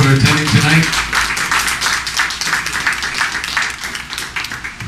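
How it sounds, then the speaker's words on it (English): Audience at a ward election debate applauding the candidates, dense close clapping after a brief opening voice, continuing steadily and slightly fading. "Round of applause for them, please, for attending tonight."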